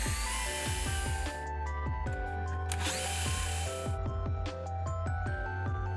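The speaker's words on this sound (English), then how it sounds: "take a 1 3/8 hole saw and drill a hole through both" A power drill fitted with a 1 3/8 inch hole saw bores through wooden closet pole sockets, the loud whining drive broken by rapid rhythmic chattering bites of the teeth into the wood, running steadily close by.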